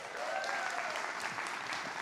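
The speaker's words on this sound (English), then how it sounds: "A round of applause." A crowd claps after a talk on business analysis: dense, sustained applause, evenly loud from start to finish, with no break or single claps standing out.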